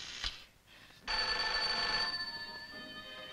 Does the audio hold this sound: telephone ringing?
yes